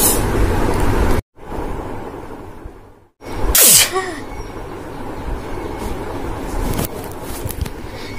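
A person sneezes forcefully from a strong powder smell, with a sharp burst between stretches of sniffling and breathy handkerchief noise, heard up close.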